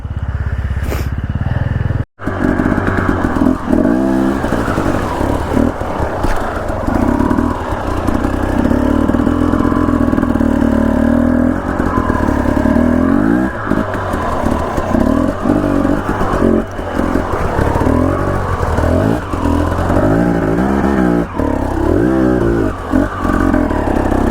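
Dirt bike engine revving and clattering near, loud and steady as the rider crosses boulders on a steep trail at Blacks Creek, Idaho, with the motor rising and falling over the rough ground.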